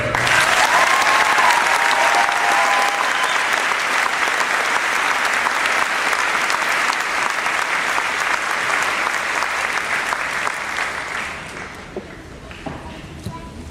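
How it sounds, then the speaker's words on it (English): A large audience claps loudly at a high school graduation ceremony, producing a dense, sustained wash of clapping that carries on for several seconds and then thins out toward the end. "May we ask you kindly to withhold your applause until this entire list of graduates has been called."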